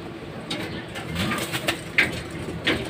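Pigeons in a loft coo softly and repeatedly, low murmuring calls broken by a few faint flutters and knocks, with no one speaking.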